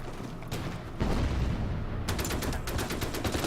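Artillery and gunfire volleys aimed at an anti-tank gun in Order of Battle, set at Stalingrad, with heavy booms followed by a rapid, evenly spaced burst of loud shots.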